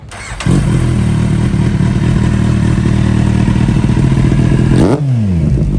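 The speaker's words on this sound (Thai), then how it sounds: "ลองฟังเสียงท่อกันก่อนว่าท่อคันนี้มันจะลั่นขนาดไหน" A Kawasaki Z800 motorcycle engine roars to life and revs hard through its exhaust at a loud, steady throttle, then drops off sharply as the revs fall away.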